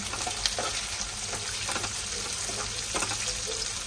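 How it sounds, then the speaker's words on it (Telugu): Onions, green chilies and curry leaves fry in hot oil for a beetroot fry, a steady close sizzle with scraping stir strokes, no talk. "మిర్చి, కరివేపాకు వేసుకొని కలుపుకోవాలి."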